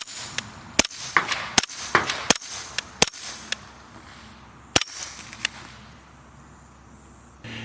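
Suppressed gunshots through a CZ USA S2 Reflex titanium suppressor on a 9mm, a rapid string of sharp cracks followed by two more spaced shots, each with a short ringing tail, heard outdoors with no talking.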